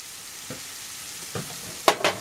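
Liver frying in a Calphalon pan with Frank's RedHot sauce, a soft sizzle broken by a few scraping stirs and two sharp clacks near the end.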